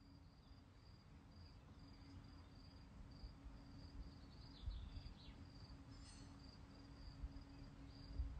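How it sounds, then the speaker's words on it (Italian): Crickets chirping on a calm mountainside: a faint, continuous high trill under a quiet outdoor hush, with only light incidental rustles. "il rumore sottofondo dei grilli"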